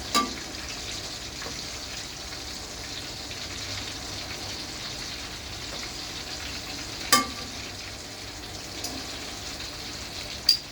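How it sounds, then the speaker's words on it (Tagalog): Thin chicken slices deep fry in coconut oil with a steady, close sizzle and bubbling, broken by a few sharp pops and clinks. "Deep fry yan guys. Ang ginamit ko nga pala dyang oil is coconut oil."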